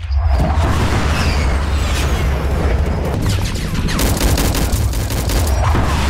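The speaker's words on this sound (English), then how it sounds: "Ah, mortar strike." Mortar strike explosions in the Roblox war game pound down in a dense, continuous barrage of booms and blasts, loud and close, with heavy rumbling throughout.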